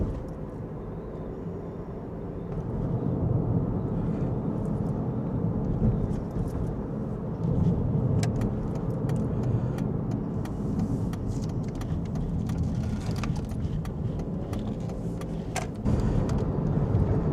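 Interior road noise from a car driving along Pennsylvania Route 345 through town in autumn, a steady low rumble of engine and tires with occasional ticks and bumps, no voices.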